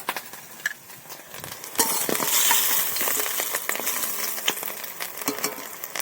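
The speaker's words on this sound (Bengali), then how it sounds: "আমি আর একবার ভাজতে দিয়ে দেবো" Pakoras made from leftover rice sizzling in hot oil, a continuous crackling fry with sharp pops and scraping stirs that swells louder midway, close up and without talk.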